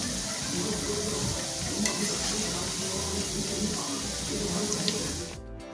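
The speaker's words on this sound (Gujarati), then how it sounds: "હવે આને ધીમા તાપે જ તળવાના છે, ફાસ્ટ કરવાનો નહીં, તો એકદમ સરસ ક્રિસ્પી થશે અને અંદરથી સોફ્ટ પણ થશે." Bhavnagari ganthiya frying in oil on a low flame gives a continuous close sizzle with faint bubbling, even and unbroken until it cuts off at the end.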